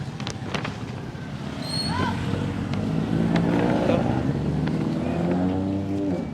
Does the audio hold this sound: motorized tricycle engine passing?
yes